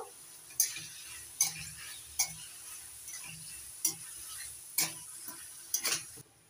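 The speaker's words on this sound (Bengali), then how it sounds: "এখন চিকেন কিমাটা ভালো করে কষিয়ে নেব।" Chicken mince sautéed in a pan with salt, quiet with repeated sharp spatula scrapes and clicks at uneven intervals over a faint sizzle.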